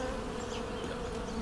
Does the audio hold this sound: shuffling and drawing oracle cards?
no